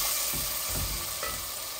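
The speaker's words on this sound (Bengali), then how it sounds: "আর এখানে আমার মশলাটা ভাজা হচ্ছে" Chili and spice masala, with a splash of water added, fries in a pan. A close, continuous hiss of sizzling holds steady throughout, with faint stirring underneath.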